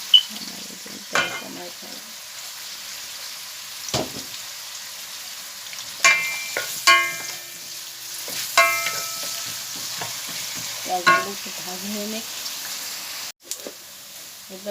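Sliced onions fry in oil with panch phoron, a soft continuous sizzle broken by repeated metallic scrapes and clinks of a spatula stirring the pan at irregular intervals.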